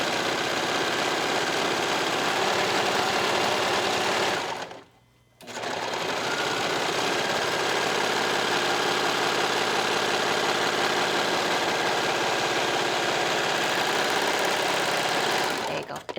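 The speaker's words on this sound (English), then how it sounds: "Run it through the serger." Serger overlocking the armhole edge of a fabric top, a loud, steady mechanical whir with a brief pause midway before stitching resumes and runs to the end.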